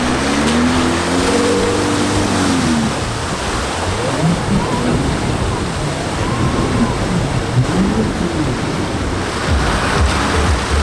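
Continuous rushing water and churning splashes with a low engine drone underneath, steady and loud throughout, as a vehicle ploughs through water in the Victorian High Country.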